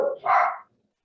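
Dogs give a short burst of barking, fairly close and loud, lasting about half a second before silence.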